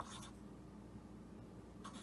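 Pencil or pen scratching across paper as a word is written, a soft continuous scraping with a brief pause, faint and close with no talk.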